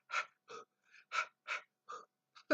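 Slow, deep breaths in a quiet room, about seven distinct inhale and exhale bursts spaced evenly across a few seconds, close and fairly soft, with no talking.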